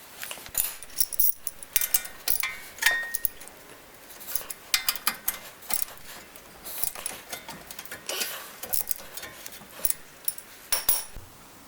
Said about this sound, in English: I'm prying the old clips off of the old brake pads here